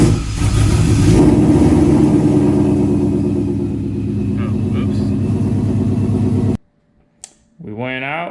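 A car engine runs loud and steady, rumbling with rising revs, then cuts off abruptly, leaving near silence before a voice begins speaking.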